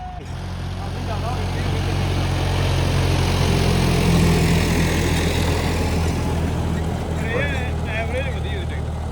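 A John Deere 5055 tractor diesel engine runs steadily after an inline fuel pump repair, a loud continuous low rumble held throughout with someone talking over it.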